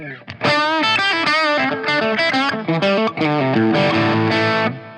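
Electric guitar played through an Ibanez distortion pedal, a sustained run of saturated, buzzing notes and chords with a thick harmonic edge, loud and close, ending abruptly.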